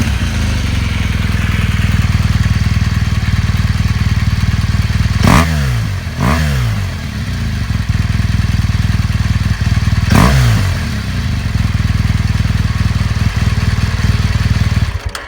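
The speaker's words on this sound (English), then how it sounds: "The bike sounds pretty nice too." A 2015 BMW GS Adventure motorcycle with its standard exhaust idles close by in a steady, loud rumble, broken by three short upward revs.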